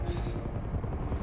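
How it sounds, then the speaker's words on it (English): A helicopter in the Uncharted demo gives a steady, close rotor drone with low throbbing pulses that stay loud for the whole moment. "that fucking helicopter here."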